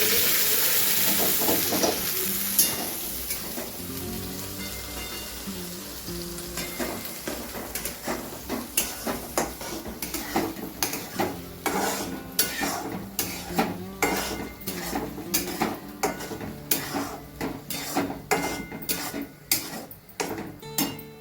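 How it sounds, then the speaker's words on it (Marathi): Masala paste frying in oil with curry leaves for a spicy village-style crab curry, with steady sizzling under repeated scraping and clinking of a spoon against the pan, close and fairly loud throughout. "ग्रेव्ही वाटण मस्त भाजून घेणार आहे"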